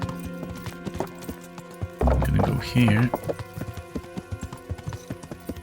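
Hoofbeats of a horse in the video game Kingdom Come: Deliverance, a steady clip-clop rhythm running through the whole stretch, with someone talking over it and a louder burst of sound in the middle.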